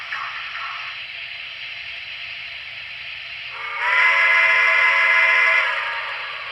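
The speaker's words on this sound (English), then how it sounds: "it switches momentarily to an alternate sounding whistle" A continuous hissing steam whistle tone from an N scale USRA Mikado model locomotive sounds, then shifts midway into a louder, brighter alternate whistle that holds for about two seconds before fading back.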